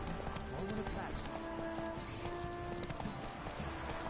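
Roach the horse gallops in The Witcher video game, a steady rapid clip-clop of hooves running continuously, with a voice talking over it.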